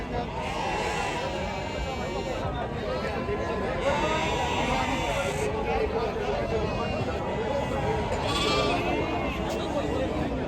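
Sheep bleat repeatedly amid a dense, noisy crowd at a large goat, sheep and chicken market in Maharashtra, with people talking and animals calling over a constant market hubbub.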